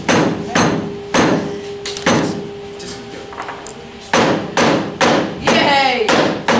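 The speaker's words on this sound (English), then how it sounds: "You gotta learn to use the hammer." A hammer pounding in a shop, with loud, sharp, repeated strikes in uneven bursts, close and dominant, with brief pauses between groups of blows.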